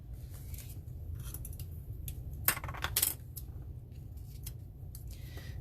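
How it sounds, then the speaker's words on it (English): Scissors or snips cut through ribbon during card-making, with a few quiet, crisp snips and light metallic clicks over a soft background hum, without talk. "I can cut off some of that ribbon"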